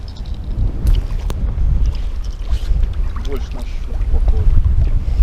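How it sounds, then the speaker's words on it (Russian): Strong wind gusts roar across the microphone on a lake while fishing for pike from a small anchored boat, with water lapping and faint voices underneath. "Поднялся сильный ветер"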